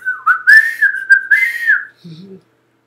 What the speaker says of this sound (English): I was gonna do the Crip whistle.